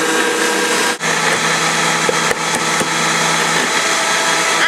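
An electric mixer whirs steadily while creaming butter with caster sugar for muffins, a constant close motor hum with a couple of brief dips in pitch.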